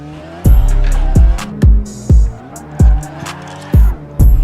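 A race car in the Assetto Corsa racing game driving hard while overtaking, with loud engine revs rising and cutting off in repeated bursts as gears shift, roughly one every half second.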